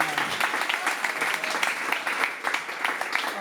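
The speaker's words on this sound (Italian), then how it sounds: "Un applauso anche a Alessio, un applauso." Audience applause at a concert with an orchestra, a sustained, lively round of clapping with crisp individual claps standing out, steady and fairly loud from start to finish.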